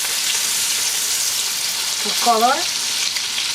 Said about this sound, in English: So we've been frying the chicken from side to side.